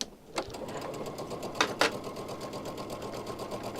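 A sewing machine runs steadily at a quiet, even level, its needle tapping in a fast regular rhythm, with a couple of brief louder clicks early on.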